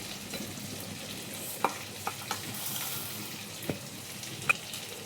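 Small chuno fish frying in a pan, a soft continuous sizzle with a few sharp utensil clicks and taps scattered through it.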